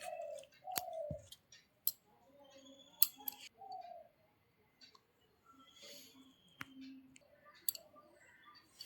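Banana stem (thor) being chopped into pieces with a knife for frying, giving sharp irregular clicks and cuts, fairly close and quiet, with small knocks and rustles between them and no talking.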